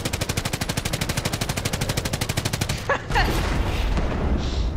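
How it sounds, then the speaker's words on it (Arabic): Rapid automatic gunfire in Call of Duty: Modern Warfare rattles in a fast, even burst for nearly three seconds, followed by a couple of sharp single shots and a lingering rumble. "هذا رصاص ورا"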